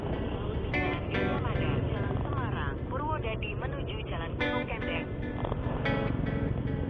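A motorcycle engine runs steadily on a road in Purwodadi or Demak, a constant droning hum throughout, with someone talking over it.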